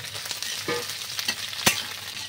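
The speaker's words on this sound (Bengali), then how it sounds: "জাস্ট এগুলো একটু তেলে নাড়াচাড়া করবো।" Capsicum and bell pepper pieces stir-fried briefly in oil in a pan for a restaurant-style mixed vegetable curry: a steady close sizzle with scraping stir strokes and one sharp clack near the end.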